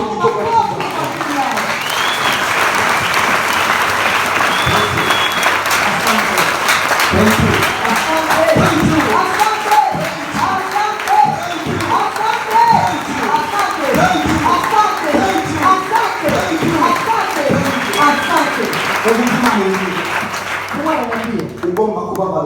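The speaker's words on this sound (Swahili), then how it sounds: "Tupigie makofi" A church congregation applauding, a long stretch of crowd clapping and cheering with a preacher's voice speaking loudly over it throughout.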